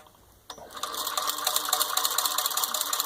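An antique New Home Midget Little Helper hand-crank sewing machine, freshly serviced and lubricated, starts clattering after a quiet moment, giving off a fast, even run of close mechanical ticks and gear chatter that continues to the end.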